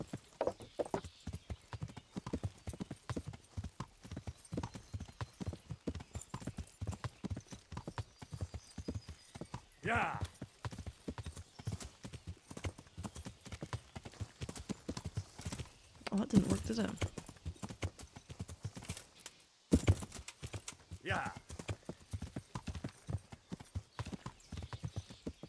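Steady clip-clop of horse hooves walking in Kingdom Come: Deliverance, with an occasional whinny and people talking over it.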